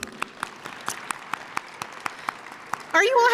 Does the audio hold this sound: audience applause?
yes